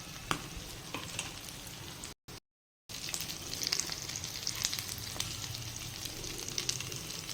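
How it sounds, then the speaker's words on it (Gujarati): Farali cutlets for Navratri fasting sizzle steadily as they fry in a pan, a continuous close crackle broken by a brief silent gap before resuming just as loud. "એક સાઈડથી આપણી કટલેસ થઈ જાય એટલે આપણે તેને પલટાવી લઈશું"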